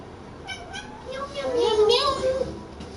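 Domestic cat meowing several times in a rising, drawn-out pattern indoors, fairly close, with family members talking faintly in the background.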